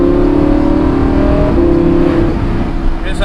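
A Lamborghini Huracan cruising on open country roads, its engine droning loud and close with a steady hum that eases slightly toward the end, with someone talking over it.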